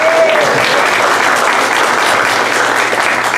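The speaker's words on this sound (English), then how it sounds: "First, let's applaud just in case." A lecture audience applauds at the end of a talk on Edgar Cayce and astral projection, a steady, dense roar of many hands clapping at close range for several seconds.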